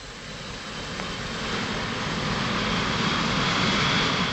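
A Gloster jet prototype aircraft engine roars close by, a loud broadband rushing whine that builds steadily over a few seconds without speech.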